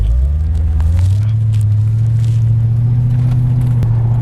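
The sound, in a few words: custom wide body Mercedes CLK 55 AMG engine driving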